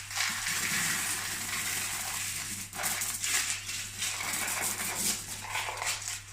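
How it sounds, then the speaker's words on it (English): A dense rattling rush of baking beans pouring and clattering onto greaseproof paper in a pastry case, continuous with a few louder surges, close up. "pop your baking beans in."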